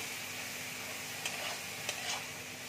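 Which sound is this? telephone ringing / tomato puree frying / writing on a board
tomato puree frying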